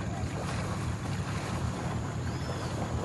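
A fishing boat's motor runs on the water, a steady rumbling drone beneath wind and splashing, constant and close throughout.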